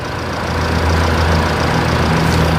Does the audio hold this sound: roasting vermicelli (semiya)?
no